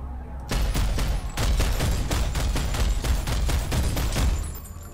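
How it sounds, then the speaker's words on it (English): Rapid automatic gunfire in the PlanetSide 2 shooter game, a steady run of a dozen or more close, loud shots in even rhythm lasting several seconds, with no talk over it. "they're shooting us"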